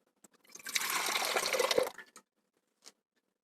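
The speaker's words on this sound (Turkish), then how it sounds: "Ve onun seviyesini geçmeyecek şekilde de su ekleyeceğim." Water pours steadily into a pressure cooker pot for about a second and a half, close by, rising slightly in pitch as it fills, then stops.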